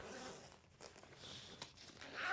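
A small zipper on a travel bag is pulled open close by, giving faint scratchy rasps broken by short pauses, with a louder rustle at the end.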